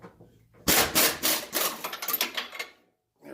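Metal nut on a Ford Ranger's front suspension airbag being worked loose, giving a run of dry, rasping turns and scraping bursts close by, ending in a short pause before a final scrape.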